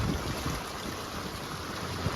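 Strong sea waves roll and wash continuously at a rainy beach sanctuary in Maragondon, a steady broadband roar with wind that sounds fairly close and loud, with no one speaking.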